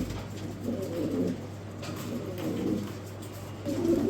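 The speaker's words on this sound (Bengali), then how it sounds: "দর্শক নিউ এডেল একজোড়া দামাসিন কবুতর মাত্রই কিন্তু কালেক্ট করে নিয়ে আসলাম" A newly acquired pair of Damascene pigeons coo in soft, repeated low murmurs. The calls rise and fall over a steady background hum and are close and moderately loud.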